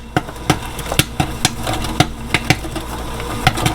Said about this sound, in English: Listen for this to just slow down just a little bit on the popping